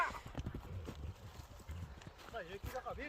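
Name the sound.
horse walking, hooves clip-clopping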